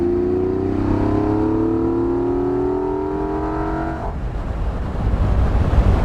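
A 1972 Jaguar E-Type V12 roadster pulls hard in third gear, its loud engine note climbing steadily for four seconds before the revs cut off and road and wind roar take over.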